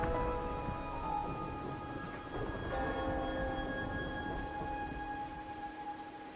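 Steady rain falls in the video game Wuthering Waves, a soft continuous patter with faint tonal music lines ringing over it and no talking.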